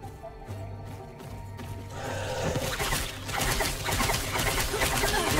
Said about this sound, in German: Dreckiger Vogel!